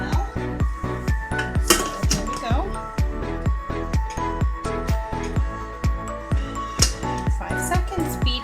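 Knife steadily chopping parsley on a cutting board, a fast regular rhythm of sharp close taps with occasional clinks, loud and alone.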